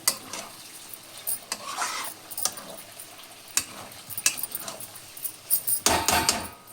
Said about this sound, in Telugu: ఇప్పుడు వీటిని బాగా కలిపి ఇంకో 2 నిమిషాలు వదిలేద్దామండి